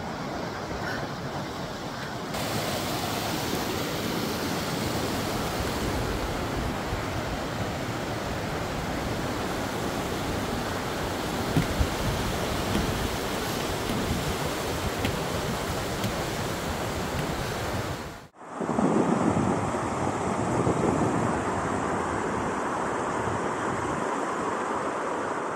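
Kern River rushing in the High Sierra as a steady, loud broadband roar of flowing water that continues unbroken, then shifts abruptly to a slightly different tone near the end.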